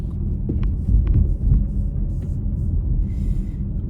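A car drives through a residential neighbourhood of small houses, its low engine and road rumble steady and close throughout, with a few faint clicks and light ticking sounds over the top.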